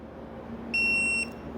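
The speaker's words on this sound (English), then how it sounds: "So we'll stop when we hear it beep." A single steady electronic beep from a tool used while rebuilding cam phaser plates on an M156 AMG engine, loud and close, lasting about half a second over a quiet background.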